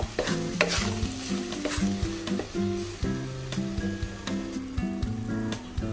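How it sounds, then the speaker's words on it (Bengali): Thickening kalakand milk mixture is stirred in a pan on the gas stove, a spoon scraping in repeated strokes with soft sizzling over a steady tonal background. "আঠা আঠা হয়ে গেলে তারপরে গ্যাসটা বন্ধ করব"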